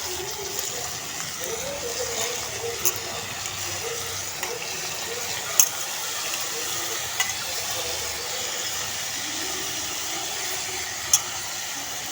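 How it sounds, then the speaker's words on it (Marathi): Chopped snake gourd sizzling in a pan while it is stirred, a soft continuous hiss with a few faint clinks of a utensil against the pan, and a voice heard faintly at times. "आपण एक चिरलेली पडवळ टाकणार आहे"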